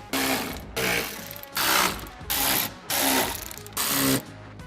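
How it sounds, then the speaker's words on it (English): Screws are driven into the fender liner of a 2015-2019 Chevy truck. About six short, loud, evenly spaced mechanical ratcheting bursts come close up, each separated by a brief pause. "then we can go ahead and thread all the screws in"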